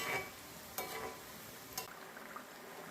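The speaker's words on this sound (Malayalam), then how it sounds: "ഒരു മിനിറ്റ് ആയാൽ നമുക്ക് ചെറുതായിട്ടൊന്ന് ഇളക്കി ഇട്ട് കൊടുക്കാം" Murukku frying in hot oil is stirred, a soft continuous sizzle broken by a few sharp scraping clinks of the utensil, close and fairly quiet, with no voices.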